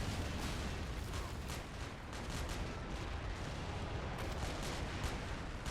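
Mortar and artillery fire rumbles in a Men of War Assault Squad battle during a US Marine beach landing. The dense, continuous blasts and booms sit at a moderate, distant level with no voices.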